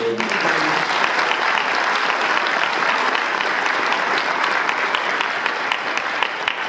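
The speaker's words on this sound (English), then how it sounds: "Will you join me in a round of applause" An audience at a labor keynote address breaks into sustained, even applause, a loud wash of many hands clapping that holds steady throughout with faint voices underneath.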